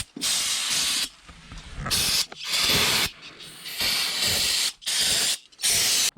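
Brake cleaner sprays onto the brakes of a 2015-2023 Nissan Maxima in loud, close hissing blasts, several bursts of a second or so separated by short pauses with faint mechanical clicks.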